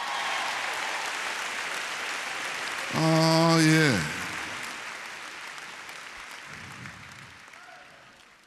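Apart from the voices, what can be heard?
audience applause at convocation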